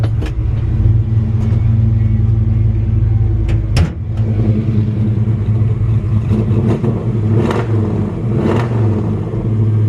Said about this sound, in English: Nice, pretty aggressive exhaust system. Let's see if we got her warmed up enough to idle.